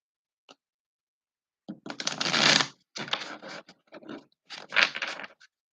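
Cards are shuffled in several quick, papery riffling bursts with short pauses between, close by and fairly quiet.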